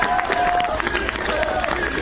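Applause and crowd noise at an outdoor farewell procession for a rock musician, a continuous mass of clapping and cheering voices, moderately loud and unbroken.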